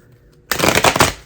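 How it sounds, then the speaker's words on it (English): Tarot cards are shuffled in a tarot reading, a quick loud riffling burst starting after a brief quiet pause and running to the end, close to the microphone. "I shouldn't have shuffled those."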